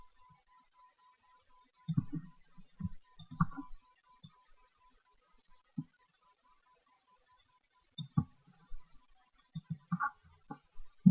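Computer mouse clicking in short, sparse bursts of crisp, close clicks, some single and some in quick pairs, separated by silence.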